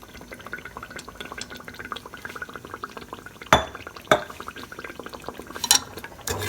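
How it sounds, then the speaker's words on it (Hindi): Water is added to chicken curry masala in a cooking pan, giving soft liquid pouring, dripping and sizzling sounds with a few sharp clinks of a utensil against the pan partway through. "इसी के अंदर मैं थोड़ा सा पानी ऐड कर लूँगी।"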